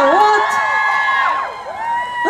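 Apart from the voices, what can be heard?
audience girls shouting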